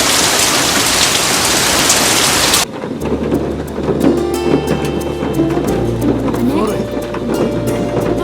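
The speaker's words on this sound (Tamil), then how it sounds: "மழை கொட்ட ஆரம்பிக்குது." Heavy rain pours down steadily, beginning with a loud dense roar that then eases into a continuous downpour with scattered drips, while voices and other background sounds carry on beneath it.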